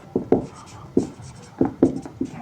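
A pen scratches across paper while simple-interest sums are worked out in a Class 10 maths lesson; soft, close strokes come in short irregular bursts, several quick scratches with small pauses between them.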